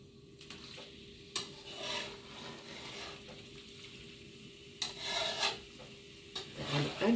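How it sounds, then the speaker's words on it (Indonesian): Fish floss made from snapper (abon ikan kakap) is stirred in a pan, giving scraping, rasping strokes with soft sizzling in uneven bursts, close by. "Aduk sampai dia kering dan rata"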